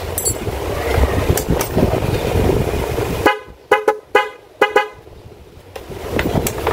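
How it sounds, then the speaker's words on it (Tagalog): An auto loud horn installed on a Honda Beat FI motorcycle sounds about five short, loud, close toots in quick succession, after a stretch of steady engine and street noise. "Tapos ito yung dalawang busina. Auto loud horn."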